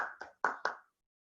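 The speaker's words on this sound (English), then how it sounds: "Let's have a big round of applause for Vinod." At an online Toastmasters club meeting, one person gives four quick, distinct hand claps up close, then silence follows.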